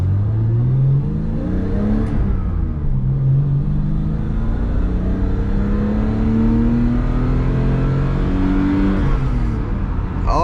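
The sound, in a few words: BMW E12 car engine revving high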